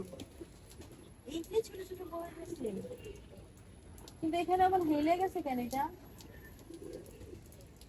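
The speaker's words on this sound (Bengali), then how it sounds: "কবুতর আছে" Pigeons coo on a rooftop, soft low throaty calls near the start and a longer, louder cooing stretch midway, heard beneath people talking nearby.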